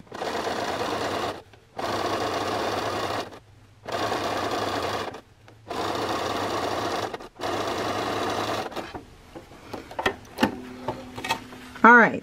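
Sewing machine stitching a triple stitch on denim jeans, running in four steady bursts of about a second and a half each with short pauses between, followed by quieter clicks and handling sounds near the end.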